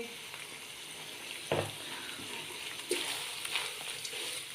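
Egg halwa with chopped cashews frying in ghee: a steady soft sizzle with a couple of sharp scraping stirs of a spoon in the pan, quiet and close, with no talking.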